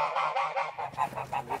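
Geese honking near an old barn in a village, a rapid run of loud, nasal honks repeating in a steady rhythm close by, with no talk over them.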